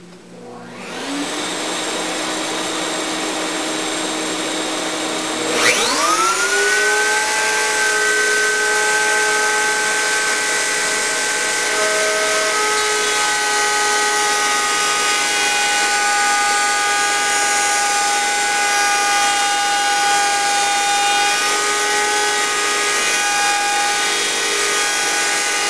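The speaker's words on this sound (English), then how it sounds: "Go ahead and turn on my vacuum cleaner." A vacuum cleaner hooked up to a router's dust collector starts up, then jumps to a higher-pitched, louder whine a few seconds later and runs steadily and close by with no talk.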